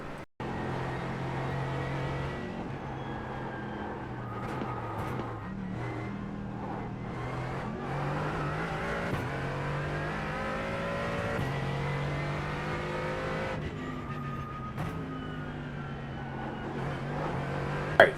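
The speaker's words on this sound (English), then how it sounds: "we've already started driving on the track" A race car in a racing video game laps the Detroit Belle Isle street circuit, its engine revving up and down continuously through gear changes at close range, with tyre noise and brief bumps.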